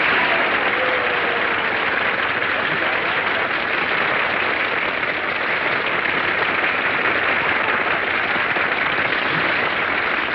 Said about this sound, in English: Now you can all applaud.